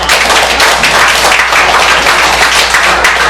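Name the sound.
audience applause welcoming speaker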